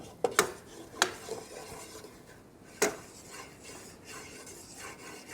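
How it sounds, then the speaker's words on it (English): Flour being stirred into melted butter in a pan, quiet scraping and rubbing with a few sharp clicks of a utensil against the pan early on and again near the middle. "Try to get the flour nice and mixed in with that butter so it doesn't clump too much"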